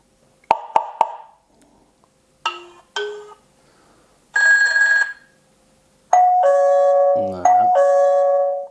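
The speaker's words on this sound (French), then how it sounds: "avoir un bruit de sonnette qui sort directement de" A Xiaomi Aqara V3 gateway plays a series of doorbell chimes: a few quick clicks, then short electronic ding tones, and finally longer ringing ding-dong melodies, each separated by silence.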